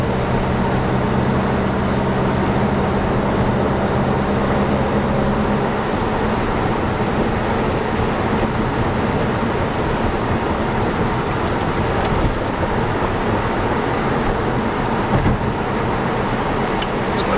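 A steady, rumbling engine drone heard from inside the cabin of a Volkswagen Golf GTI Clubsport with the resonator deleted, at 80 km/h in sixth gear, with broadband road and exhaust noise holding constant throughout.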